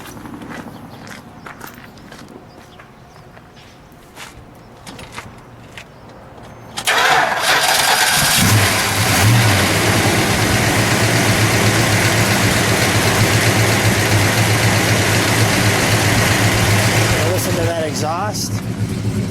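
A 1970 Dodge Charger R/T with a 440 V8 is quiet at first, with a few faint footsteps and a low voice, then cranks and catches, settling into a loud, deep, steady idle with a slight rev near the end.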